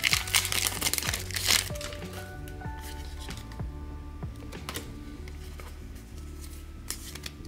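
Pokémon card booster pack wrappers being torn open, close crinkly crackling foil plastic with sharp tearing bursts early on, then softer steady crinkling and rustling throughout, with no talk.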